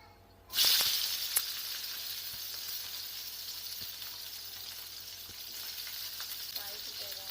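Ivy gourd curry base of onion, garlic and tomato hitting hot oil in a pan, bursting into a loud sizzle that settles into a steady frying hiss with occasional stirring clicks.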